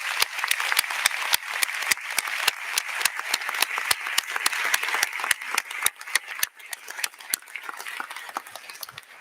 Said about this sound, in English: the round of applause that they deserve